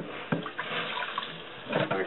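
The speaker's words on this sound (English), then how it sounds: "All I normally do is just put them into the hot water." Dry beans tipped into a pot of hot water, a short sloshing, splashing pour close by with a couple of brief plops.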